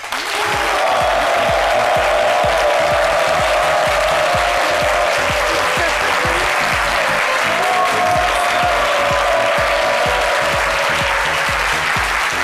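A studio audience bursts into sustained, loud applause, rhythmic clapping held at full strength for the whole stretch with a low music bed underneath.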